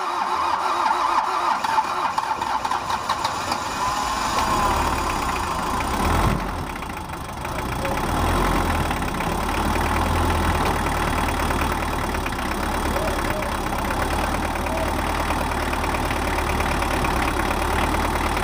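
A car engine turns over and catches, then settles into a steady idle with a slight dip around the start; the motor runs close and loud throughout with no talking. The car has a broken timing belt.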